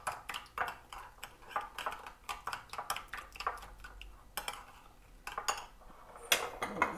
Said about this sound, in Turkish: Güzelce soslarımızı çırpalım.